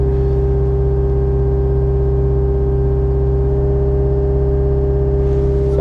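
A CAT 285 compact track loader's diesel engine holds a steady, loud drone at about 2,000 RPM close by, with an even hum and no break throughout.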